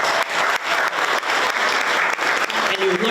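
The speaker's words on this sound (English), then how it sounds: "please clap your hands" An audience at a literacy day celebration claps hands, a dense, steady patter of many hands sustained from start to finish, with brief dips in the middle and a voice faintly entering near the end.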